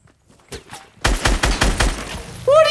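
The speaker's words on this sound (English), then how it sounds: "I'm literally about to run past this gunfight" Gunfire in a Fortnite Battle Royale gunfight: a couple of muffled distant shots, then a rapid burst of six or seven loud, close cracks, ending with a rising electronic game tone.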